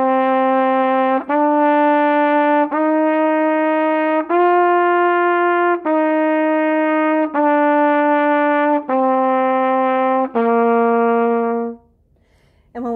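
A trumpet plays a five-note scale from C up to G and back down to C, nine sustained and evenly spaced tones, clear and close, with nothing else heard.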